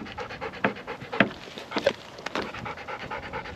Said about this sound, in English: It's a nice little dog.